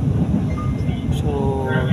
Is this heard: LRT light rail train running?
yes